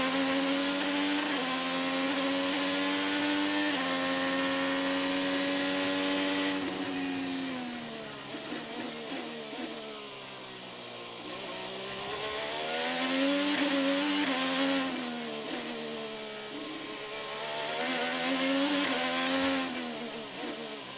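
An IndyCar racing around the Detroit Grand Prix street circuit, heard onboard as a loud, continuous engine howl that climbs and drops in pitch through repeated upshifts and braking zones.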